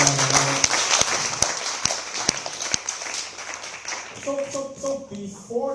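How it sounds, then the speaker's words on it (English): An audience at a virtual reality tech meetup applauds its speakers, sparse, scattered claps with a few sharp hand smacks standing out, thinning as voices and chatter rise toward the end. "Round of applause for our speakers one more time."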